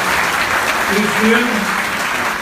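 Audience applause during a political speech at the Federal University of Bahia, a loud sustained crowd clapping while a voice begins speaking over it.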